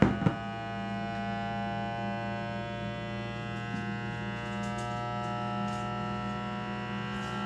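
A cordless vacuum jar sealer pumping air out of a jar of marshmallows, a steady electric motor drone with a constant humming, whining pitch, starting with a click and running on evenly.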